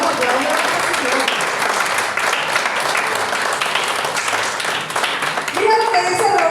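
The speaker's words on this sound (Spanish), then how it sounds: "si usted va a aplaudir al Señor, aplaudir al Señor." A church congregation applauds loudly and steadily throughout, a dense wash of many hands clapping close by, with voices mixed in beneath the clapping and some shouting near the end.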